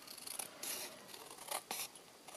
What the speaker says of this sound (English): So all I'm going to do is trim off